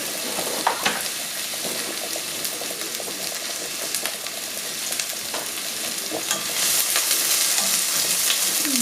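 Chopped onion sautés in a hot pot for lasagna soup, a steady crackling sizzle punctuated by stirring scrapes, growing a little louder toward the end, with no talking.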